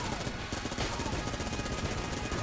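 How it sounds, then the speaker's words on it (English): Vulcan cannon in the video game Enter the Gungeon fires as a dense, continuous rapid-fire roar, loud and unbroken for the whole stretch, with no pauses between shots. "Man, I love using makeshift cannon, not makeshift cannon, Vulcan cannon like this."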